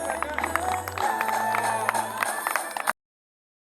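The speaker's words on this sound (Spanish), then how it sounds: "Fuerte el aplauso, por favor." An outdoor audience applauds at the awards of a fishing contest in Rosario del Tala, with steady clapping and crowd murmur for about three seconds before cutting off abruptly into silence.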